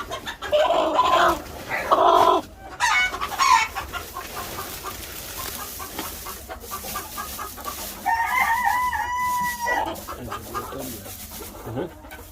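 Gurk chickens on a farm cluck and squawk in loud bursts near the start, then fall to quieter background clucking before another run of calls near the end.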